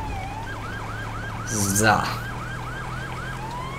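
A police car siren in GTA 5 with the LSPDFR mod wails in a steady, rapid yelp pattern, with a brief burst of louder engine noise partway through and a single short spoken word.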